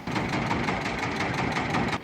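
A fishing trawler's engine idles with a continuous, even rumble and a fast regular throb, close and steady throughout.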